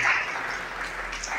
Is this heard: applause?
yes